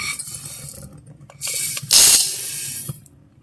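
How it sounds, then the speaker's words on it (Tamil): Rice and lentils are washed by hand in a vessel of water while making ven pongal: scattered grainy rattles, then a louder swishing, pouring burst in the middle that fades out. No one speaks. "இப்போ இதை பாத்திரத்தில் மாற்றி கழுவ போகிறேன்"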